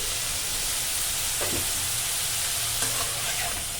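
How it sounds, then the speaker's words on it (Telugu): Cauliflower pieces cooking in a pan for a curry, a constant loud frying hiss with a couple of brief scraping stirs, heard close and without any speech. "ఈ విధంగా కొంచెం సేపు ఒక ఐదు నిమిషాలు మరి ఇలా మగ్గనిచ్చినట్లయితే మనకి కాలీఫ్లవర్ ముక్కలు అయితే మెత్తబడిపోతాయండి"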